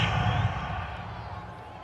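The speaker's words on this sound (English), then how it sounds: "this crowd does not like that call" Stadium crowd in a Madden NFL 22 Rams vs Bills football game reacting to a penalty call, a loud, dense roar of voices with boos that swells at the start and then holds steady.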